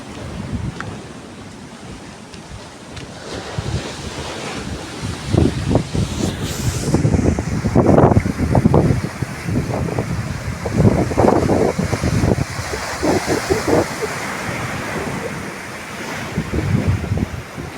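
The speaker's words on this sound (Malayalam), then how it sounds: "വലിയൊരു തിര വരുന്നുണ്ട്" Ocean waves surging and crashing on the shore beside a fort on the Kerala coast, loud rolling surges in repeated swells with heavy wind buffeting the microphone.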